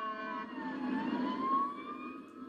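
A wailing fire siren rises and falls steadily over a low rumble of traffic in Litchfield, fairly loud and continuous, with no voices.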